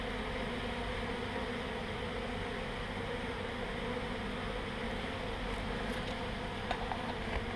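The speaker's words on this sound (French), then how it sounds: "il reste une dizaine, une vingtaine d'abeilles qui volent là autour" Honeybees buzz steadily around a hive after swarming, a continuous low drone of a dozen or two insects circling close by, with a faint tap or two near the end and no talking.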